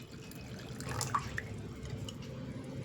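Water poured into a pepper shaker that serves as a classroom bacteria cell model, heard as a few faint, close drips and trickles over low room hum.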